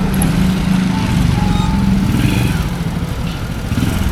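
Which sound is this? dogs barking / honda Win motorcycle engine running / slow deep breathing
honda Win motorcycle engine running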